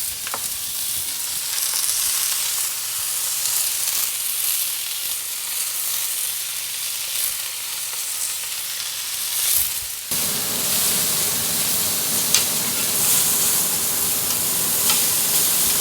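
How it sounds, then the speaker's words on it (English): Food searing on a very hot plancha for South Texas Matamoros-style tacos, a steady loud sizzle and crackle throughout that grows slightly brighter partway through, with no talking. "I've got my plancha here. It's pretty high and I need high heat so I could get a good sear."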